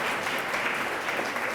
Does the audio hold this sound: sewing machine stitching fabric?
no